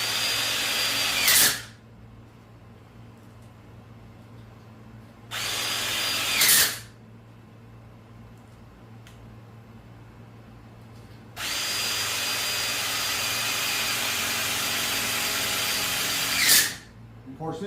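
A Craftsman 20-volt battery impact driver drives screws into connectors in short whirring bursts, then one long sustained run and a final quick burst, close and loud.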